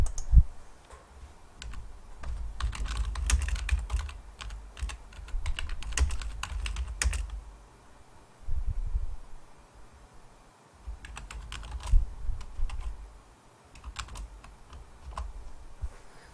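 Fingers tap on a computer keyboard, pressing the Ctrl T shortcut, in irregular bursts of close, crisp key clicks with short pauses, and nobody speaks.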